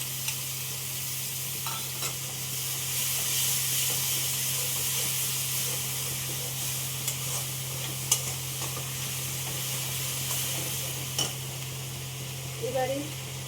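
Spice paste fries in oil with bay leaf, giving a continuous soft sizzle and hiss under a steady low hum, with occasional faint clicks and stirring touches, heard close and fairly quiet throughout.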